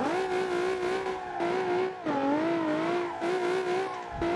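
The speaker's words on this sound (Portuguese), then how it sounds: "Controlar a derrapagem." A Nissan 370Z skidding and drifting in the BeamNG.Drive driving game, a loud close engine whine rising and falling through short bursts as tires slide, with brief dips between pulls and no talk.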